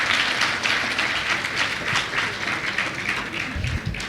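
Steady applause from a large seated audience at an agricultural industry congress, a dense continuous patter of clapping heard from within the hall.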